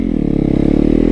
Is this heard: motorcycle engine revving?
yes